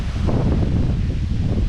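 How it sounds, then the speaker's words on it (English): Strong outdoor wind batters the microphone in a loud, low, rumbling rush with slight gusty swells, lasting under two seconds. "it's windy. It's very windy."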